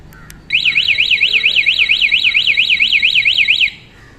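A motorcycle security alarm on a Bajaj Pulsar 220F sounds loud and close, a rapidly warbling electronic siren that rises and falls steadily for about three seconds after a couple of short chirps, then cuts off.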